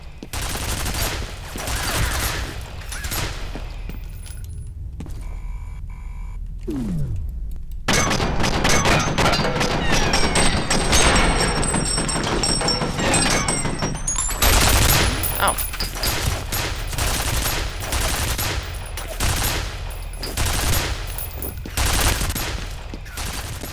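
Sustained turret gunfire in F.E.A.R., dense rapid bursts of automatic shots filling the scene, loud and close, with clanging impacts and a brief quieter lull partway through.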